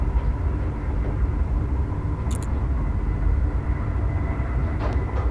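A Dutch Intercity VIRM double-decker train passes, rumbling steadily and loudly throughout, a continuous low roar with no pauses and no voices.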